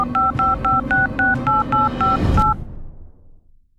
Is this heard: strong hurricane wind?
no